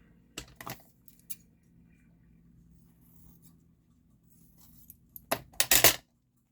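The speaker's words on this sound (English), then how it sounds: "I'll cut a little bit off this bottom" Scissors snipping the bottom off a paper envelope, a few faint quiet clips early on followed by a closer burst of crisp cuts near the end, in an otherwise quiet room.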